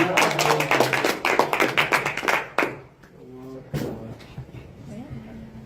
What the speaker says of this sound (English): If you want to clap, clap well.